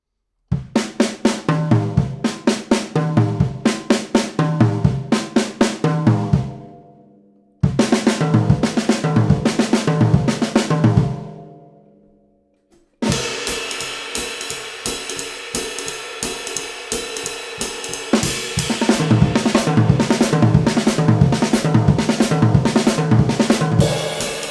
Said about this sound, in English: So we start with the bass drum and then finish out a measured Ratamacue.